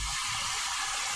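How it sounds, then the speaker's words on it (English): Water pouring from a tap or into a pot while making sauce for salisbury steak: a steady, close, hissing rush of water running throughout, alone with no talk. "so we're going to keep adding a little bit of water here."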